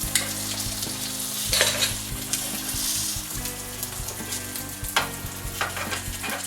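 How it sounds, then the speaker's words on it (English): An egg fries in an egg ring in a non-stick pan, giving a steady close sizzle with occasional sharper pops and scraping clicks from the utensil throughout. "So every time I pull it back, the liquid goes under it and it fries pretty good."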